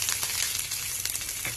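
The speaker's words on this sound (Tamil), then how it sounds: "எண்ணெய் காஞ்சதுக்கு அப்புறம் முதல்ல நறுக்கி வச்சிருக்க பூண்டும் கருவேப்பிலையும் சேர்த்துடலாம்." Steady crackling sizzle of garlic and curry leaves frying in hot oil, continuous and close, with small pops scattered throughout.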